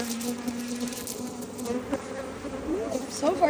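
Honey bees buzzing around a hive frame during a June hive inspection, a dense steady drone of many wings close by, with individual bees rising and falling in pitch as they pass near.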